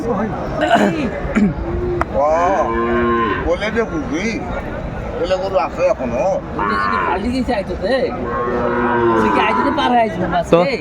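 Sahiwal bulls and calves at a cattle market in Faridpur moo loudly and repeatedly, long wavering lows close by, mixed with people chattering and laughing around them.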